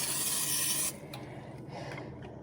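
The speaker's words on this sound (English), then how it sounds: "Alright, Pam spray is done." A can of Pam cooking spray lets out a close, bright aerosol hiss for just under a second, then cuts off, leaving faint kitchen taps and quiet room noise.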